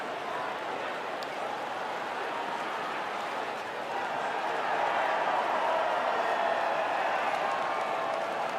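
A crowd cheering an Aston Martin podium in the F1 24 video game, a broad wash of applause and cheering that swells slightly partway through and stays steady, heard at a distance under a faint commentary bed.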